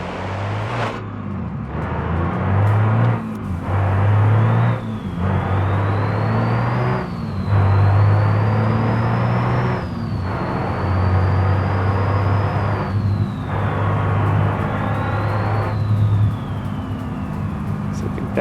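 Simulated car engine in BeamNG being downshifted under throttle, droning steadily and rising and falling in pitch across repeated shifts with a short dip at each change, loud and continuous alongside a high whine.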